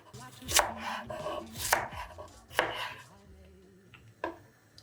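A knife chops cucumber on a cutting board while sushi is being made, with several distinct, fairly loud, close strikes spaced unevenly, each followed by a short quieter pause.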